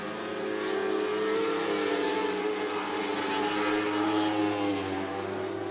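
Race cars at Cottage Grove Speedway in Cottage Grove, Oregon, with engines droning continuously and blending into a steady, fairly loud roar with no clear pass-bys.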